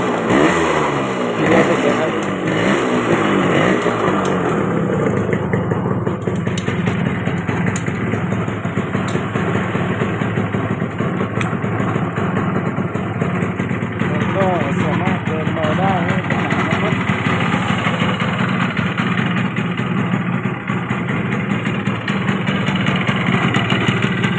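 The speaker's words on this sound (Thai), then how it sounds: "หลังจากนั้นเราก็ลองมาสตาร์ทเครื่องกันนะครับ" A motorcycle with a carburetor flooding problem runs after being started, its engine holding a steady, close idle throughout.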